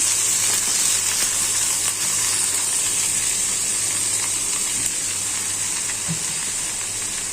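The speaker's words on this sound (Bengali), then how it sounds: "বিসমিল্লাহ, ভাজি বসাই দিলাম" Potato and papaya bhaji frying in a pan with browned onions: a steady, loud, bright sizzle and hiss that continues evenly without pause, with no voices.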